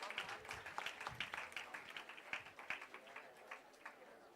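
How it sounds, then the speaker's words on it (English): Audience clapping at an academic national colloquium session, a dense patter of many hands heard at moderate distance, faint and steady throughout. "give a big round of applause for SDNB and MOP"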